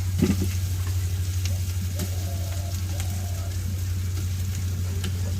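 Khichuri with hilsa fish cooking in a pot gives a soft, continuous sizzle over a steady low hum, with a few faint clinks near the start.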